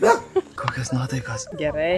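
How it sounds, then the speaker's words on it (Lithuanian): A dog barking and yipping in short bursts on a trip in Mexico, heard under and between people talking nearby. "He's barking."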